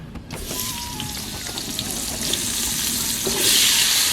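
Potatoes fry in hot oil in a wok, giving a dense, continuous sizzle that grows louder and brighter toward the end, with faint stirring taps and no voices.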